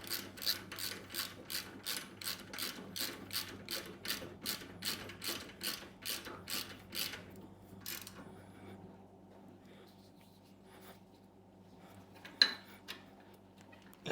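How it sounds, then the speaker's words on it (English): Rapid ratcheting clicks from tightening bolts with a 5/16 Allen on a Harley-Davidson engine crash guard, a quick even run of about twenty close ticks, then quiet with a single sharp tap later. "come in with a 5/16 Allen and snug these down"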